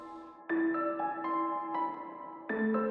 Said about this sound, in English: the original piano signal cuts right through.